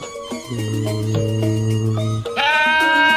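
A goat in a cartoon livestock-sale scene bleats loudly and close up, one long wavering call followed by a second higher, rising bleat.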